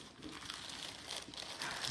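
Plastic wrapping around a canvas embroidery kit crinkles and rustles continuously as it is pulled open, close and fairly steady, with no talking.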